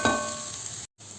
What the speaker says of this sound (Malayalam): അതുവരെ നന്നായിട്ട് ഇതൊന്ന് ഇളക്കി എണ്ണയിൽ കിടന്ന് ഇതൊന്ന് ചൂടാക്കി എടുക്കണം